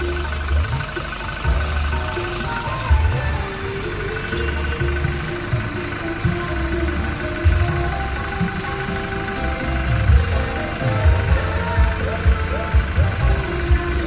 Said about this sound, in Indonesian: Posisi mesin nyala